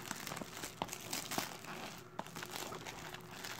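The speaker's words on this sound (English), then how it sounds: "I should just call it unwrapping, because that's all I'm doing right now. Just unwrapping shit." Wrapping paper crinkles and tears as Christmas presents are unwrapped, a near, steady rustle with sharper crackles and a few louder snaps, no talk.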